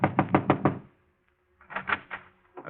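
Two bursts of knuckle knocks on a café manager's door in a radio drama: a quick set of four raps, a pause, then a second group of three or four, crisp and close with no talk.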